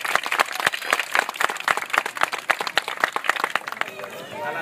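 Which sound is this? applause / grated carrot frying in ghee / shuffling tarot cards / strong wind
applause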